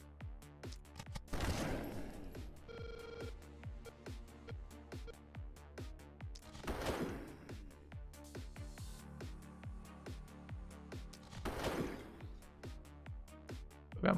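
Gunfire in the turn-based game The Last Spell comes as three separate heavy volleys a few seconds apart, each a burst of crackling shots, over a quieter game backdrop with small clicks between them.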